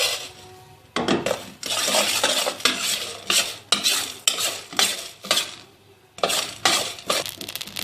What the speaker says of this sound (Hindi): पहले सबसे अपना मसाला जो है हम थोड़ा सा भूनेंगे और इसको ग्राइंड कर लेंगे।